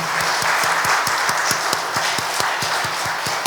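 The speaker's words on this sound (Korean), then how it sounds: "우리 박수로 우리 격려했으면 좋겠습니다" A Friday prayer meeting congregation applauds the youth worship team, a steady wash of clapping with a regular, sharp beat of rhythmic claps running through it.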